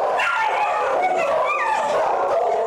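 Several rescued street dogs at an animal shelter bark, yip and whimper together in a dense, continuous chorus, loud and close with overlapping calls throughout.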